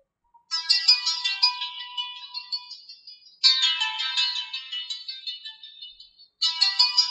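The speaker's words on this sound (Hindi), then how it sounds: "यहाँ पे आप देख सकते हैं कॉल आना शुरू हो गई है" Incoming-call ringtone from a Kieslect Calling Watch Kr smartwatch: a bright melodic tone pattern plays loud and clear, repeating in about three-second cycles with brief silent gaps and no talking.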